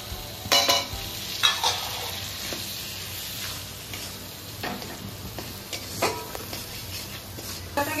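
Chopped tomato and chili sautéing in a pan with turmeric and salt, a steady sizzle broken by stirring scrapes and occasional sharp clinks, no speech.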